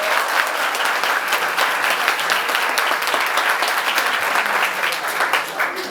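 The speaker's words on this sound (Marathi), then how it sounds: "जोरदार टाळ्या एकदा झाल्या पाहिजे पुन्हा" A large college audience at a road safety awareness event claps loudly, a sustained, even burst of applause from many hands lasting several seconds and fading slightly at the close.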